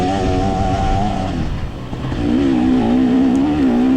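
A KTM 300 XC-W two-stroke dirt bike climbs a hill during a mountain hare scramble, its engine loud and close, dipping briefly then rising into a hard, wavering rev.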